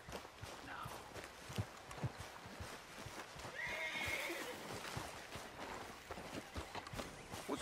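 Horse in Red Dead Redemption 2 walking with steady clip-clop hooves and giving a whinny partway through, fairly faint against a low outdoor game ambience.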